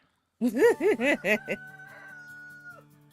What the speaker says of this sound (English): I raise chickens